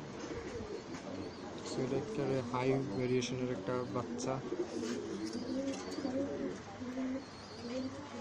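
Pankhi pigeons kept for sale coo repeatedly in soft, rhythmic rolling calls close by, with chirps mixed in, while someone talks over them.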